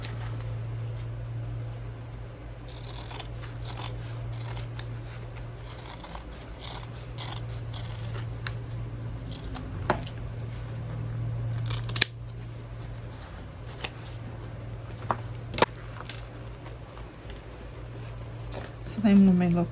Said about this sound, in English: we can trim these seam allowance down to 1/8 of an inch